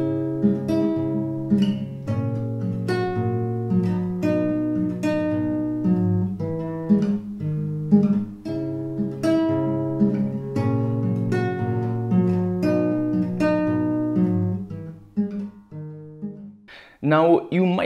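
Guitar strumming a steady rhythmic song, chords ringing continuously and evenly for a long stretch before stopping abruptly.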